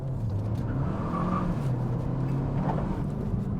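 A tuned front-wheel-drive Cupra 290 with around 360 bhp on 265 tyres accelerates hard as its wheels spin, producing a loud, sustained engine roar heard from inside the car with no talk over it.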